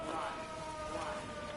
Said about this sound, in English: Those are tornado sirens.